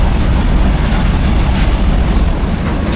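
A long freight train rumbles past a railway level crossing near Mayapur, its steady heavy roar loud and close, continuous throughout with no talk.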